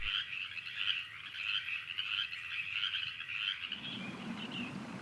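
Frogs croak in a dense, continuous chorus of rapid trilling calls, close and loud, until the chorus cuts off into rustling background noise.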